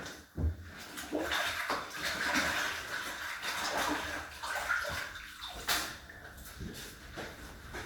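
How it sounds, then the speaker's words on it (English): A splash brush used for casting plasterwork is swished and rinsed in a bucket of water, giving irregular sloshing and splashing with knocks against the container, close and fairly quiet. "let's go and wash the brush out"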